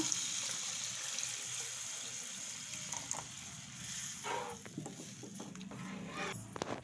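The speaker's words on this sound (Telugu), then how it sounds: "ఇలా కలుపుకొని 2 గ్లాస్ వాటర్ పోసుకుంటున్నాను" A steady rush of water being poured into a pot of tomatoes for tomato rasam, with light splashing and a few clinks, fairly close and continuous throughout.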